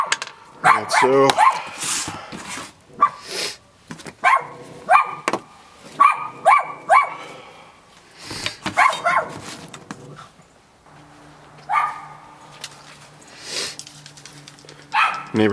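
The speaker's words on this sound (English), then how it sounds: "neighbor's dog." A neighbor's dog, one of several puppies living at the house next to an apartment, barks in repeated sharp bursts across the whole stretch, loud and close, with some talking in between.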